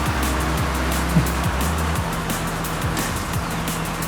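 A car coasting downhill off the throttle in Forza Horizon 6, a steady low engine and road drone with rushing wind noise and faint periodic shifts in tone, continuous and fairly loud throughout.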